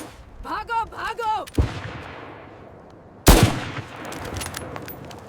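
Gunfire in a Hindi film shootout between Chambal dacoits and a police officer: a shouted voice comes first, then two sharp, loud shots a couple of seconds apart, with rumbling battle noise in between.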